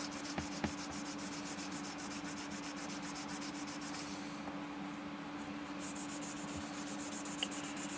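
Sandpaper rubs steadily back and forth across a 3D printed model kit, a continuous, fairly close scratchy hiss with occasional small taps and no talking.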